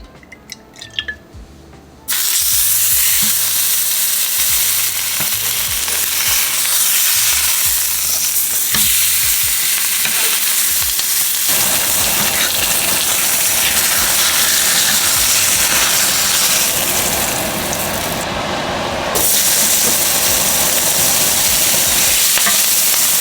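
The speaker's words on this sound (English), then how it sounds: "So we're just gonna do a quick little sear just to get some color on it." Chicken sears in hot oil in a pan for a chicken stew, starting with a short quiet moment before a loud, steady sizzle and spatter takes over. The frying holds close and continuous throughout, with no voices.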